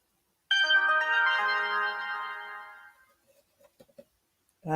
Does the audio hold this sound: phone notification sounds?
yes